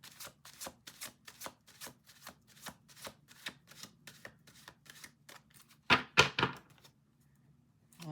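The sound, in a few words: shuffling tarot cards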